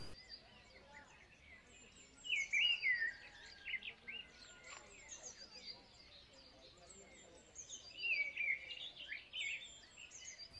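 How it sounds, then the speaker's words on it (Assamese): Eagles at the Assam State Zoo give high, thin whistling calls in two short bursts, early and near the end, fairly faint over a quiet outdoor background. "আৰু এইকেইটা হৈছে ঈগল চৰাই"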